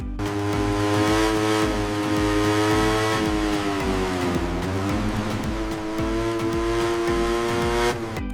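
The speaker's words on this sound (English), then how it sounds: "with the press of a button, the new CBR600RR comes alive" A new 2026 Honda CBR600RR middleweight supersport motorcycle engine running after push-button start, a steady close idle and buzz with harmonic drone that rises briefly mid-way then settles, loud and alone without talk.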